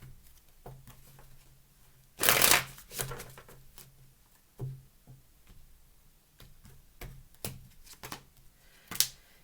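Tarot cards being shuffled and riffled close by, a loud burst of riffling followed by softer scattered flicks and taps, no voices.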